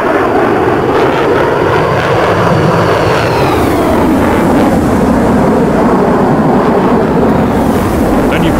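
A Mirage 2000C jet lands on a runway in the flight simulator DCS World. A loud, continuous engine roar with a rising whine fills the whole stretch, steady and close.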